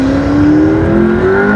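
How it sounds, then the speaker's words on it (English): A McLaren P1 supercar engine revs during a point-of-view drive, a loud steady drone that climbs gradually in pitch over under two seconds, heard alone without talk. "Taking you on a point of view drive in a McLaren P1."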